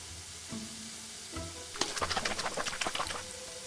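Water is poured into a bottle already holding vinegar, giving a quick run of splashy, trickling bursts that start after a soft clunk and carry on for under two seconds at close range, with no voices.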